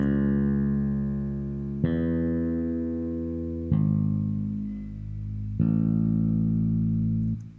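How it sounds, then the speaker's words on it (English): Bass notes from an FL Studio synth play with the equalizer switched off, giving full low end. Four sustained, rich tones each change pitch abruptly, with nothing else heard. "If I disable the equalizer, you can hear what it sounds like."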